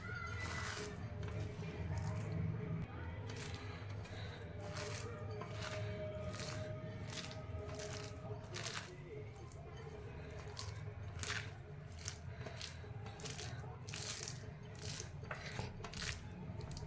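Wet, squishy mixing of a thick semolina and vermicelli batter, with repeated sticky squelches and scrapes in an uneven rhythm, close up and fairly quiet.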